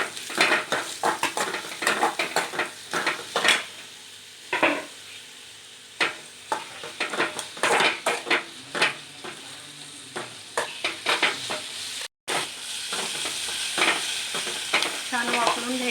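Gavar (cluster bean) bhaji is stirred and mixed in a pan with a spoon, giving repeated scraping strokes over a soft steady sizzle, close and fairly loud, with brief utensil knocks and no talking.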